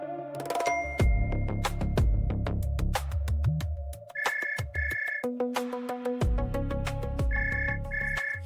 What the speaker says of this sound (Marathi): स्वराज साहेबांचा परत फोन यायला लागलाय.